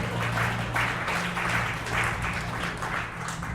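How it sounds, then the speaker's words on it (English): An audience claps for a new father at a talk, a steady, dense round of applause lasting several seconds at even loudness, with a faint low hum underneath and no voices. "Shall we give a hand clap to this dad there?"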